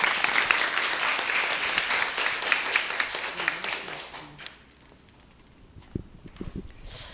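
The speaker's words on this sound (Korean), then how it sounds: "박수 치고." Audience applause at a book club talk, dense steady clapping for about four seconds that fades away, followed by quiet with a few soft knocks.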